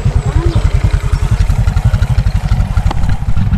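A motorcycle engine runs close by with a loud, rapid low-pitched putter and a steady pulsing rhythm, with no talk over it.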